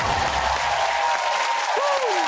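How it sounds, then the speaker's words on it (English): Television game show studio audience applauding, dense sustained clapping at steady loudness with faint cheering and a voice briefly over it. "give them a massive round of applause"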